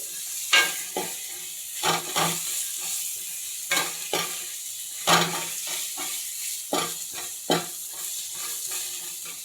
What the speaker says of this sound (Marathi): शिमला मिरची, कोबी आणि गाजर लांब लांब चिरलेलं ते सुद्धा घालून घ्यायचे. परतून घ्यायचं आहे व्यवस्थित.